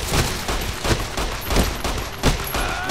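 Rapid gunfire in the game Fallout New Vegas, with about half a dozen sharp, loud shots in an uneven rhythm over a constant background hiss, and no talking.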